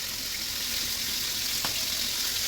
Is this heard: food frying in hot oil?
yes